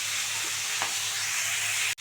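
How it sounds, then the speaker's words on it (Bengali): Onion frying with panch phoron in a pan, a steady close hiss and sizzle that holds evenly, with one sharp knock near the end. "এটাকে এবার ভালো করে ভেজে নেব।"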